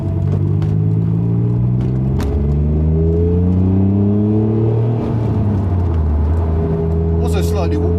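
A Honda NSX sports car cruises at about 40 mph, its engine droning loud and close inside the cabin, with the pitch rising and falling as the revs shift over several seconds.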